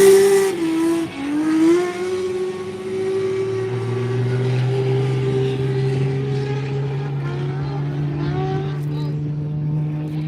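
Several drift cars at a Formula Drift ProSpec warm-up in Utah hold steady, droning engine notes that overlap and shift pitch together. The sound is loud and continuous, like two runs happening at once.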